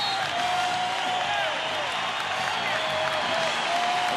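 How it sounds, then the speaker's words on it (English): Crowd noise filling a basketball arena during the 1989 NBA Finals, Pistons at Lakers, a steady roar of cheering and applause with an announcer talking over it. "The crowd getting up for their big moment that they hope the Lakers can come back here."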